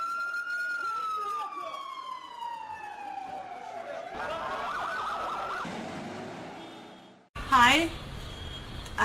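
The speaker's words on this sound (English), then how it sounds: "Now I hear the ambulances running." Ambulance sirens in Gaza wail loudly in a long falling sweep, then give way to a harsh, jumbled roar before a sharp burst of rising and falling siren tones near the end.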